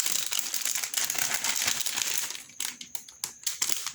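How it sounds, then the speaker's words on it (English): Crinkling and tearing of plastic packaging as a Razer Cynosa RGB gaming keyboard is unwrapped, steady close rustling that breaks into sharper separate rips and crackles toward the end. "so let's unwrap it here very quick"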